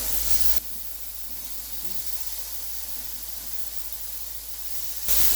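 Marinated beef bulgogi with carrots and green onion cooking in a hot pan, a steady broadband hiss of sizzling that holds evenly for several seconds with no talk over it.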